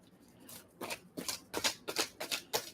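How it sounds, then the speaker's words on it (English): Tarot cards shuffled by hand, a run of about eight quick riffling bursts in an uneven rhythm, close and fairly clear against a quiet background. "Oh, I'm shuffling and I didn't pull the tarot card."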